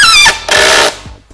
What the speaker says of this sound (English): That's the sound it's supposed to make, and that's the clutch engagement.